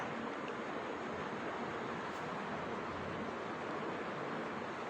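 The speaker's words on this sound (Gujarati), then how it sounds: "જો મોજું આવ્યું" Sea waves break steadily on the shore at Porbandar during a fair, a continuous broadband wash of surf with wind noise, fairly distant and even in level, with no talking.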